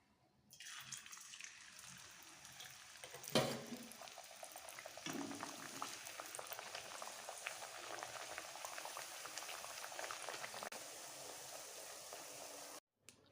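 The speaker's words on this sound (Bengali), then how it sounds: "এবার এক এক করে এগুলো ফ্রাই করে নেবো।" Pea-stuffed matar kachori pastries fry in hot oil with a steady, faint bubbling sizzle, including one sharper splash early on, and no voices over it.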